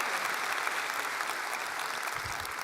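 A graduation ceremony audience applauds, a dense, sustained wash of clapping from a large crowd that holds steady and eases slightly toward the end, with no talking over it.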